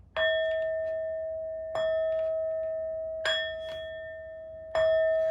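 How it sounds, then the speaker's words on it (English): Four clear metallic bell strikes spaced evenly apart, each ringing out with a long, pure sustained tone that slowly decays before the next. "These next 4 bell sounds are to align us and to bless this reading."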